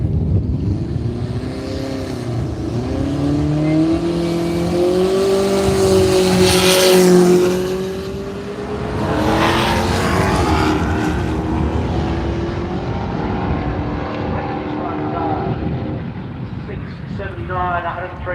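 A Lexus and a Holden Monaro drag racing at Willowbank Raceway, Australia, with loud engines roaring and revving as they pull away. A commentator's voice runs over the sound and the engine noise fades toward the end.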